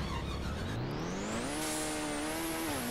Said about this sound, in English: I'm going to drive this Porsche right here